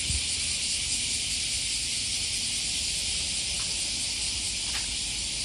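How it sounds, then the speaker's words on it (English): A loud, continuous high-pitched buzzing drone of cicadas fills the air at Korakuen Garden in Okayama, Japan, steady and unbroken, with faint background noise beneath. "I'm bringing you the sounds of the cicadas live for your listening enjoyment"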